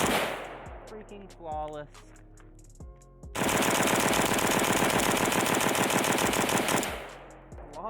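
A Pioneer Arms 556 sporter underfolder AK rifle fires a few single shots, then a long rapid string of rounds lasting several seconds, loud and close, with someone speaking briefly.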